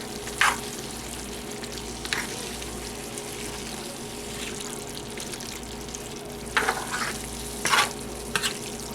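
Onion and garlic sizzle softly in a pan of lasagna sauce while a utensil stirs them, giving steady low frying with occasional scraping and clacking strokes against the pan.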